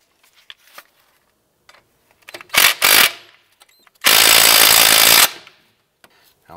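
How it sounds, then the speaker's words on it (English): Power tool tightening bolts on the ABS wire bracket during a front strut replacement on a 2006-2011 Cadillac DTS: two short bursts, then one longer, loud run, with faint clicks and handling noises between. "Once that's started, we'll go ahead and snug those down"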